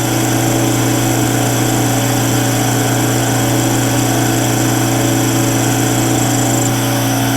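A metal lathe takes an interrupted cut while working on a hydraulic pump prototype part, giving a steady loud mechanical drone with strong low hum and a rattly chatter running throughout, with no talk.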